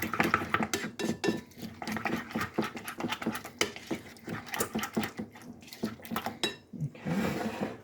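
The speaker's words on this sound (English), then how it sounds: "We'll just stir that up real good." Spoon stirring ingredients in a pot, a busy run of close clinks and scrapes against the pan at a steady pace, with no voices.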